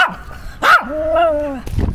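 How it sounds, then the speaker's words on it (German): A dog outdoors near buildings in Poland by the Russian border gives a sharp bark followed by a drawn-out howling whine, close and loud. "Und ein sowjetischer Hund."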